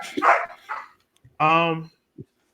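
A dog barks in a couple of short, close voiced yelps between bursts of a person talking, with a brief faint sound trailing at the end.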